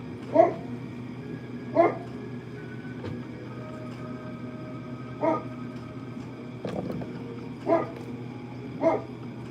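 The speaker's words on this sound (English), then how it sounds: "I wonder if I could get Gracie to stop barking." A dog barks in short single woofs spaced a few seconds apart, moderately near, over a steady low indoor hum with no talking.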